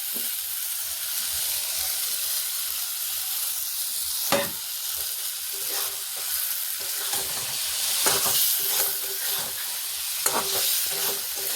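Paneer and green peas frying in spiced oil in a wok, a steady close sizzle with several sharp clatters of stirring and spoon strikes scattered through.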